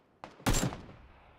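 Gunfire in the battle royale game PUBG: a brief faint shot followed by a louder crack that decays, then another shot starting at the end, all fairly quiet with no talking.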